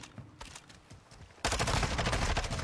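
Rapid gunfire from an online multiplayer shooter bursts in loudly partway through, a dense sustained volley after a stretch of quieter game noise and scattered distant shots.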